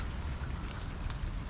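Steady rain falls during Tropical Storm Nicholas in Houston, a dense continuous hiss of drops on surfaces, moderately loud and even, with no voices.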